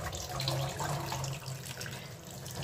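Water runs steadily over fresh chhana, the cottage cheese being rinsed in a sink or strainer, a continuous close splashing flow without speech.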